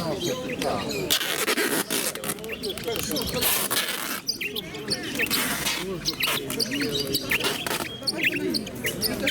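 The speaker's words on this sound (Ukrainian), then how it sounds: "О, диви, які птички маленькі птички, бачиш, маленькі." Small birds chirp and twitter busily nearby while people talk over them, at an outdoor fair and exhibition in Voznesensk.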